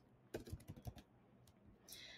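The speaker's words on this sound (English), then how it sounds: "So type your offer here" A handful of quick, close computer keyboard keystrokes in an irregular burst, then a few scattered clicks in a quiet room, with no talking.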